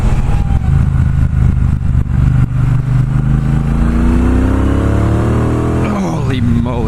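A 2018 Triumph Bobber Black motorcycle on the move, its engine rumbling steadily and loudly throughout, with the pitch climbing as it accelerates and then dropping sharply as the gear shifts near the end.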